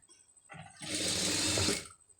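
A sewing machine stitches a sleeve up close: a short start-up whir, then one steady, even run of about a second before it stops.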